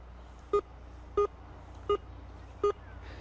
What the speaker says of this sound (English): You want a solid repeatable beep over multiple passes.